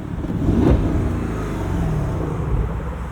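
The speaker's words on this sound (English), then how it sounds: "let's hear that V8" A Porsche Cayenne Turbo E-Hybrid Coupe's V8 engine revs in a single loud burst early on. It settles into a steady, close rumble that holds to the end, with no talk.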